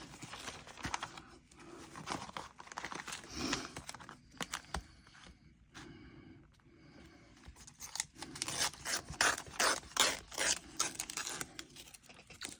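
Scissors trimming glossy magazine pages for a junk journal, a run of close, crisp snips and paper rustles with short pauses, fairly quiet at desk level.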